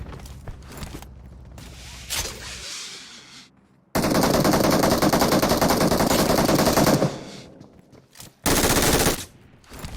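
Gunfire in the PUBG Mobile video game: loud sustained automatic bursts, one long stretch of rapid fire and a shorter burst later, with scattered single shots and mechanical clatter between.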